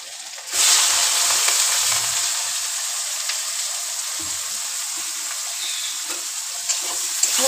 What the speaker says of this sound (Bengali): তেলে শুকনো লঙ্কা আর গোটা জিরে দিয়ে দেবো।